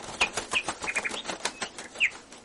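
A bulbul flaps its wings as it flies off, a quick run of soft, close fluttering beats mixed with a few short chirps.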